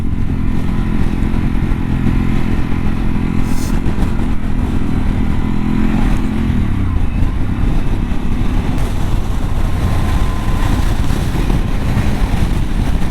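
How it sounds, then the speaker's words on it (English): Strong gusting wind buffets the microphone while riding a Harley-Davidson Pan America motorcycle on an exposed hilltop road, a loud constant roar over the steady engine drone, with no talking. "That must be 70, 80 mile an hour winds trying to blow me off the bike."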